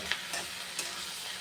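Lightly salted masala fries in a pan with a soft, steady sizzle, broken by a few quick scraping stirs, faint and without speech.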